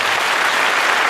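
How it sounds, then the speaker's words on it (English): An audience at a college event in Jabalpur breaks into dense, steady applause with many hands clapping at once, sustained and fairly loud across the whole moment. "So huge round of applause."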